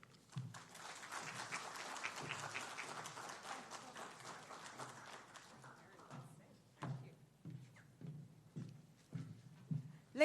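An audience at a public festival event applauds in a dense clatter of clapping that fades over several seconds, then thins to scattered claps and thuds mixed with a few voices.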